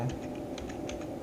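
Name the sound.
typing a command on a computer keyboard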